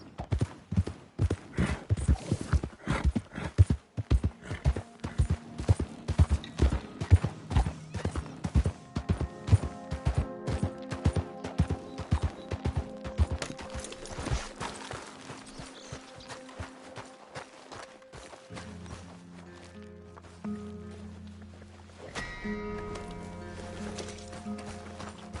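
A horse gallops in a PS4 video game, rapid rhythmic hoofbeats pounding close and steady before slowing into sparser clops as the scene shifts to a music-like tonal background.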